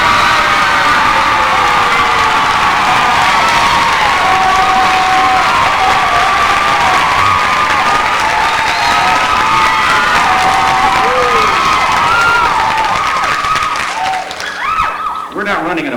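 Pageant audience cheering, whooping and applauding loudly and steadily for a finalist, with a dense crowd roar filling the whole stretch before it begins to ease off at the very end.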